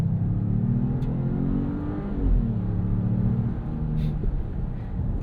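Hurricane turbo engine of a 2026 Jeep Grand Cherokee accelerating from inside the cabin: a steady, loud, low drone whose pitch climbs, drops at a shift, then climbs again, with no talking over it.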